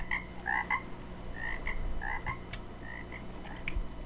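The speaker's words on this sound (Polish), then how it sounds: "Aha, wielka żaba." A giant frog in a video game croaks in a series of loud, close, rhythmic bursts, spaced irregularly and heard on its own over a low background hum.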